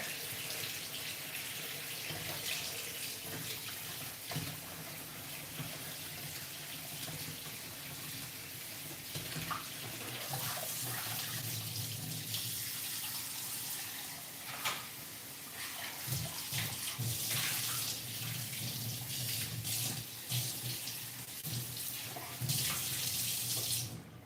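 Hot water runs steadily from a tap during washing, a continuous close splashing hiss with small clatters and shifts in the flow throughout.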